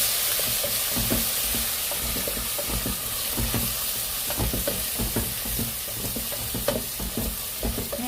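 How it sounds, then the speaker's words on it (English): Green chili paste and spices frying in a pan for Kokni masala dal, a steady close sizzle with a run of rhythmic spoon scrapes and taps as the mixture is stirred. "Just keep stirring for a minute"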